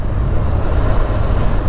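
A small motorcycle rides along with a steady, continuous low engine drone and road rumble, with some wind buffeting, close to the microphone and without talk.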